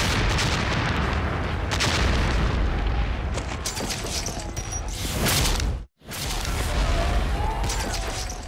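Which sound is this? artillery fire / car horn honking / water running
artillery fire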